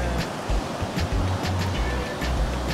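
Ocean waves wash onto a beach in Cape Town, a steady broadband surf roar with low rumbling surges every second or so, moderately loud and continuous with no talking.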